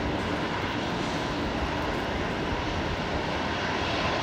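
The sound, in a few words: Dash 8 Q400 aircraft at Brisbane Airport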